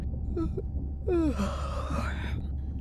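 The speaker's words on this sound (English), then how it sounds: "Was that a yawn?" A character in the video game Beyond Blue lets out a drawn-out breathy yawn, preceded by a couple of short vocal sounds over a low steady background hum.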